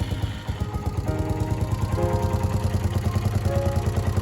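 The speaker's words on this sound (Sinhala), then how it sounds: "ඔයිල් මාරු කරගත්තට පස්සේ ස්ටාර්ට් කරලා බලන්න සද්ද ස්මූත් වෙනවා." A Suzuki Volty 250cc motorcycle idles just after an oil change, its single engine thumping in a close, even, rapid pulse that holds steady throughout with no talking.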